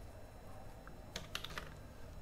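Code is typed on a computer keyboard, a short burst of a few quick, faint key clicks after a brief quiet hum.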